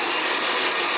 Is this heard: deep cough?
no